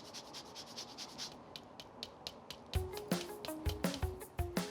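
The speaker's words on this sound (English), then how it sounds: "A little bit of lemon zest, which ties everything together because it adds this brilliant freshness." Lemon zest scraped on a grater for a Greek quinoa and chickpea salad: a run of quick, soft rasping strokes, with sharper, louder scraping and tapping toward the end, and no talking.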